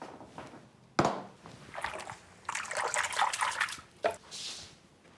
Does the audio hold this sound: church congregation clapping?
no